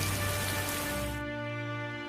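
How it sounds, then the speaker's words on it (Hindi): Cartoon rainstorm: a broad wash of rain hiss over a sustained tonal bed, which thins out abruptly partway through, leaving the lower tones ringing on alone. "इस बारिश और तूफान के बीच जाकर देखूंगा"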